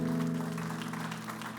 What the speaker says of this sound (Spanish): Dale ese fuerte aplauso a Cristo.